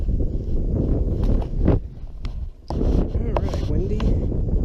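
Steady wind buffets a microphone out on open water at night during striped bass fishing, a broadband roar with gusty surges and a brief dip, some faint handling noises on top.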